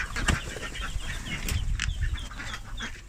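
Busy duck clucking and quacking close by in a multi-level duck pen, several birds calling over one another with some wing flapping and scuffling.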